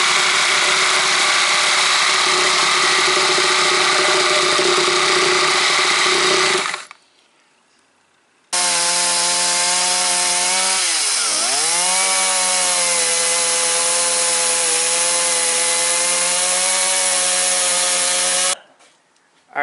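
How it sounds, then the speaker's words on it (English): A reciprocating saw and a chainsaw cutting through a smaller, shallower section of wood for a sawmill crane build, loud and close; a steady droning cut stops, a pause follows, then another long engine-driven cut with a brief dip in pitch midway. "the combination of the reciprocal saw and the chainsaw did pretty good"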